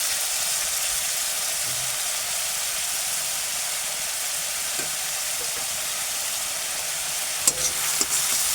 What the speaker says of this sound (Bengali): পেঁয়াজটা এখানে কষানো হয়ে গেছে।